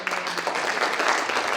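A stand-up comedy audience answers a married-or-not question with steady, fairly loud applause, many hands clapping together across the whole moment.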